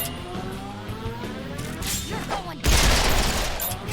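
Gunfire in a PS5 video game rattles in a dense fusillade of shots over engine-like rumble and impacts, ending in a loud, sustained blast of noise.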